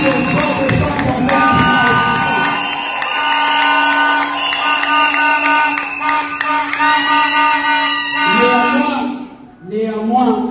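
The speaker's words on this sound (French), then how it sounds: "Je reprends pour qu'on puisse acclamer très bien." A welcoming crowd of men and women at a church reception for a pastor cheers and acclaims loudly and continuously, with whoops and shouts over a sustained musical drone, the roar dipping briefly near the end before swelling again.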